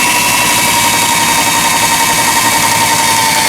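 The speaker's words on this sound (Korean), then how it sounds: "각종 기능들이 정상적으로 작동되어지고 있는 라이온 미싱에서 판매한 인디고 14라는 기계" A repaired Lion Indigo 14 sewing machine runs continuously at a steady, even speed, a close, loud mechanical hum and rapid whir with no pauses and no talking.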